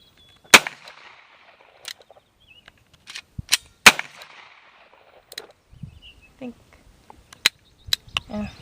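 A Colt pistol fired at an outdoor shooting range: a few sharp, loud single shots spaced seconds apart, each with a short ringing tail, plus quieter handling noises and brief talk between shots.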